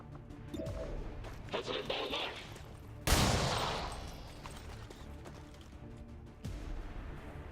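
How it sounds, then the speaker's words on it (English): A single pistol shot in the video game Long War 2 lands as one sharp, loud crack that tails off slowly, with a softer rumble of game noise before and after. "I'm gonna go here and just shoot the pistol once."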